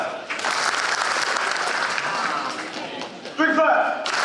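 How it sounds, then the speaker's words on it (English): A crowd gathered at WWT claps and applauds together, a broad dense wash of hand claps running nearly the whole stretch, with a louder burst near the end and talk mixed in. "Give me 3 claps"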